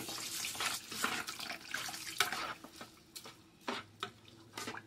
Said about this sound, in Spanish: lo que le voy a estar poniéndole al arroz va a ser una taza y media de agua